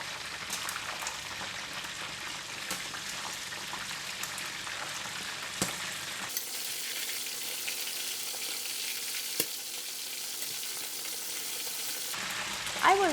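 A marinated whole chicken leg fries in a frying pan, giving a steady, close crackling sizzle with occasional pops; the sizzle changes level partway through and keeps going without any talk.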